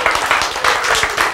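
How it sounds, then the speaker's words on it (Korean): A lecture audience breaks into brief, dense applause, with many hands clapping together in a loud, close, steady burst. "박수!"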